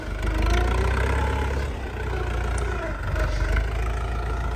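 A KENTAVR 404SD walk-behind tractor engine runs steadily at a low, rumbling chug throughout while plowing virgin soil, close by, with slight dips and rises in its pitch and loudness.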